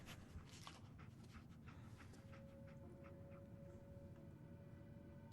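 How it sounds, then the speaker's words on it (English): Dogmeat, the dog in Fallout 4, pants steadily with a few soft whimpers, quiet and close, with no voices over it. "Well, dog meat seems eager."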